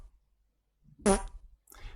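Fart sound effect played from a JavaScript fart button, a single loud, close, buzzy blast lasting about a quarter second, followed by a fainter trailing sputter after silence.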